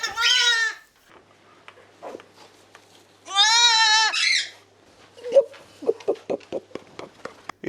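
Newborn goat kids, about two days old, bleating loudly and close by, with two long quavering cries separated by quiet, followed by scattered small knocks and rustles.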